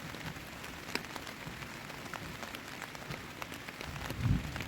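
Rain patters steadily on a tent in a forest near Manali, Himachal Pradesh, during a thunderstorm, a continuous close drumming of drops with scattered sharper hits and a brief low thump near the end.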